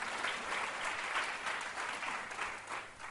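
A congregation at a prayer and fasting worship service breaks into sustained applause, a steady and fairly distant wash of many hands that holds for about three seconds with no voices over it.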